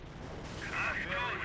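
Artillery barrage from a Hummel self-propelled gun in Company of Heroes, heard as rumbling, distant-sounding bursts under a steady battle din, with a voice talking over it.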